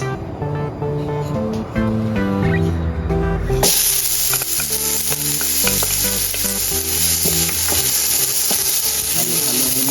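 Onions sauté in hot oil for bopis, a steady loud sizzle that jumps up sharply partway through as the ingredients hit the pan, with stirring scrapes running through it and music playing in the background.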